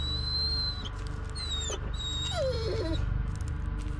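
A dog in the horror game Blair Witch gives high thin whimpers and whines, several short squeaky cries over a dense low ambient drone.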